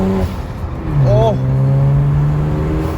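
A BMW 335i fitted with a diverter blow-off valve mod revs up from inside the cabin, its engine tone rising loud and close while a voice talks over it.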